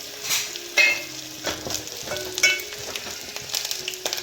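Onion fries with curry leaves in a hot pan, a soft steady sizzle broken by sharp scraping clicks of stirring, close and with no talk.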